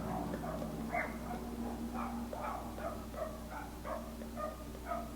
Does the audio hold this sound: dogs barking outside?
yes